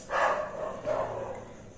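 Dogs bark outside at night in the rain, two fairly faint, distant bursts of barking heard alone with no voices.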